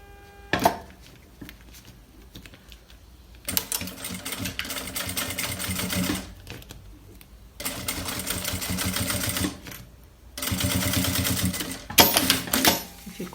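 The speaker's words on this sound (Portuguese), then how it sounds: "Então, aqui eu costuro." A sewing machine runs close and loud in several long bursts of steady whirring, separated by brief quiet gaps, while it stitches a seam on plastic for an Easter egg bag.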